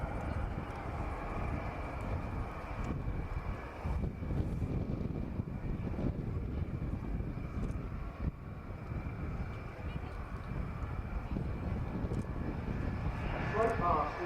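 An Airbus A400M Atlas turboprop transport makes a slow low pass at the Royal International Air Tattoo airshow, its engines roaring steadily and broadly throughout with wind buffeting the microphone and a commentator talking over it.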